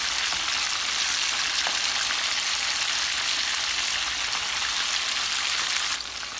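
Chicken pieces fry in plenty of hot oil in a large pan, giving a dense, even sizzle that crackles steadily and close by with no talking.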